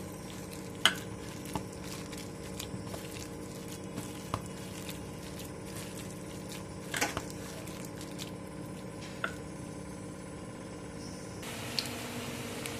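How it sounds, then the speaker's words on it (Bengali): Onion pakoras frying in hot oil, a steady broadband sizzle throughout with occasional stirring clinks and soft pops, fairly close and continuous, no talk. "এইভাবে ছোট্ট ছোট্ট করে দিয়ে আমি সবকে ভেজে নেব।"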